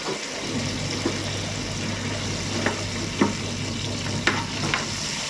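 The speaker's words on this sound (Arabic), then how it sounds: "اول ما الثوم بتاعنا بيبدا يصفر كده هننزل عليه رشه الشطه" Garlic sizzles in a hot pan, a steady crackling fry with a few sharp pops and clinks of a utensil, close and fairly quiet with no talking.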